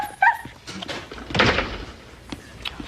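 A dog barks and whimpers a few times close by, with a thud like a door knocking partway through.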